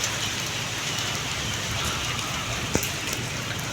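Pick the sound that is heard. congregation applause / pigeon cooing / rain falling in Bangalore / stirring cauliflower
rain falling in Bangalore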